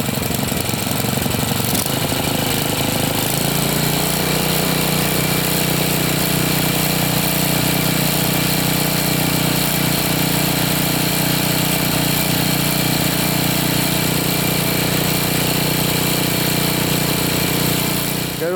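A Briggs 190cc OHV engine on a MasterCraft Lawn Chief rototiller idles steadily and loudly up close, a continuous droning putter that holds unchanged throughout with no talk over it.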